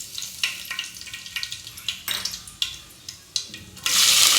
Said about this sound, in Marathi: कढईमध्ये तेल गरम झालेले आहे। यामध्ये मी आता मोहरी आणि जिरे टाकून घेते।